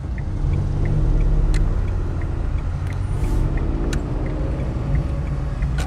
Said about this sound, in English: Okay, now this is a busy road.